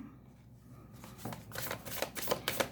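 Oracle cards being shuffled by hand, a few quiet riffling bursts building after a near-silent start, with a soft rhythmic flutter toward the end.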